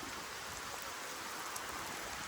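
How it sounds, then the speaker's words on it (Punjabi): Heavy rain pouring steadily, a dense unbroken hiss of drops striking surfaces nearby with no voices. "ਇਹ ਜਿਹਾ ਮੀਂਹ ਕਦੇ ਕਦੇ ਮਿਲਦਾ ਭਾਈ"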